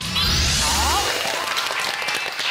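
Applause for a team of schoolchildren on a children's game show, a sustained wash of clapping heard over studio music and a rising effect at the start, holding loud through the clip.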